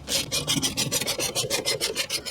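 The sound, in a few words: threading and tightening bolts into Honda Accord rear brake drum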